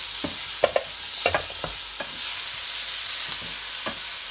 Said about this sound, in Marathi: चांगलं परतून घ्यायचं आहे।